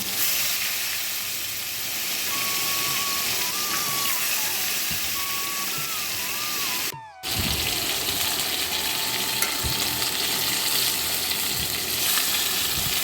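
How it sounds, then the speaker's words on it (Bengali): Steady loud sizzling of bhola fish frying in hot oil in a wok, continuous throughout with a brief dropout midway and faint tonal whines above. "বাকি মাছগুলো একইভাবে আমি ভেজে নেবো"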